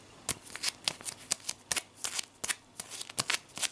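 Sticky packing tape crinkles and peels repeatedly while gifts are unboxed, producing close, loud, rapid crackling bursts in an irregular rhythm with no talking.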